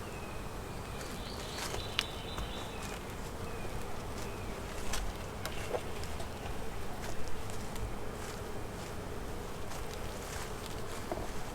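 Honey bees hum and buzz steadily around an open hive being worked in a beeyard, a dense, continuous swarm drone with individual bees zipping close past now and then.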